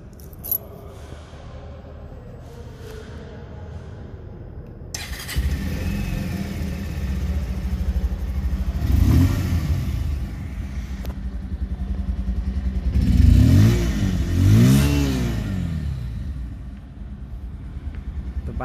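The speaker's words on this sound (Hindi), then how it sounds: "तो अब बाइक को ऑन करते हैं।" A Bajaj Pulsar 150 BS6 twin-disc motorcycle starts after a few seconds of quiet, then settles into a steady close idle with a couple of rising revs and some clatter, no talking.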